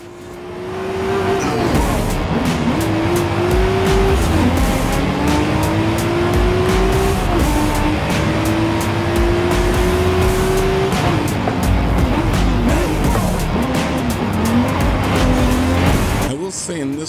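Race cars in Forza Horizon 5 lap a refinery circuit with sharp turns, engines droning loudly and steadily while pitch rises and falls through gear changes, with tire squeal in the corners and talk over the top.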